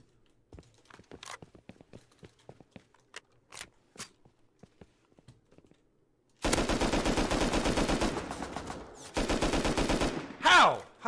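LR300 assault rifle fire in a first-person shooter game: long sustained automatic bursts, loud and dense, after several seconds of sparse distant single shots and clicks, with a short pause between two heavy strings of fire.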